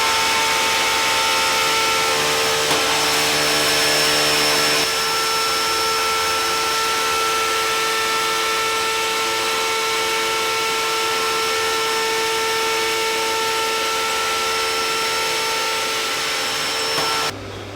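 A router table cuts a V-groove along the side of wooden planter boards, giving a steady, loud, high-pitched motor whine with a cutting roar that holds level for most of the time, then stops near the end.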